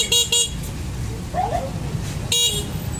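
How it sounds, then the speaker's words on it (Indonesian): Horn on an assembled electric bicycle honks twice in quick succession at the start, then once more near the end, each short and loud over a low background hum. "Klakson."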